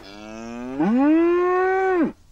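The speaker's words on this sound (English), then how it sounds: "They were still mooing and chewing all over the tracks." Cow mooing in a cartoon about trains, a single long close moo that rises in pitch, holds steady for over a second and then drops off, heard alone.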